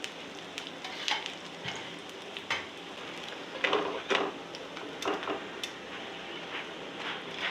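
An egg paratha cooking in oil or ghee on a pan gives a steady close sizzle and crackle with scattered sharper pops, running continuously and fairly soft.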